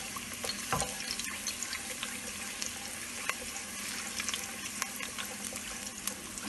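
Garlic frying in hot oil in a pan for Nigerian meat pie, a steady close crackling sizzle with scattered pops and light scraping, no voices.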